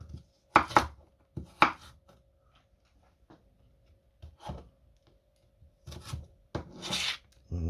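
Ingredients for a slow-cooker Mongolian beef stew are sliced with a knife on a board, making irregular bursts of close cutting and scraping strokes separated by quiet pauses.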